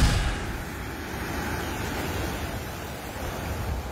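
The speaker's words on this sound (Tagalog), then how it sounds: "Malalakas na hampas ng alon sa dagat ang nararanasan ngayong araw sa Calayan Island sa Cagayan dahil sa Bagyong Leon." Strong sea waves pound the shore of Calayan Island, Cagayan, during Typhoon Leon, a loud continuous roar of surf with steady wind noise and no breaks.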